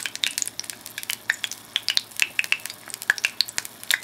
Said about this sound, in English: It's definitely boiling.